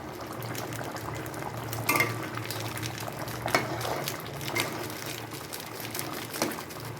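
A pot of biryani masala mixture boils steadily on the stove, giving a continuous bubbling simmer with a few louder pops and stirring clatters.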